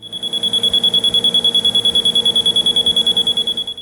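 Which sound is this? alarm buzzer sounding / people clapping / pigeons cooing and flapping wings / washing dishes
alarm buzzer sounding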